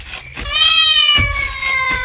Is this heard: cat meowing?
yes